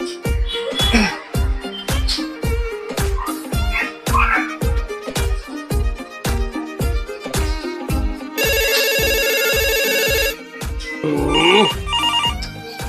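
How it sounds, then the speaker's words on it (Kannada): A mobile phone rings with a loud, repeating electronic ringtone melody in a steady beat, and a sustained bright tone briefly joins in near the end. "ಇದು ಯಾವ್ದೋ ಫೋನ್ ಬಂತಡಿ"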